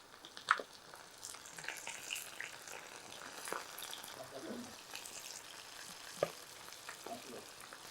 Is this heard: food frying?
yes